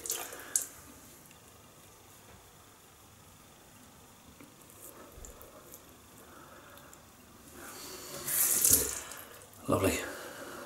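Tap water runs softly and steadily to wet the face before shaving with a Gillette double-edge razor, with louder splashes and handling sounds near the end.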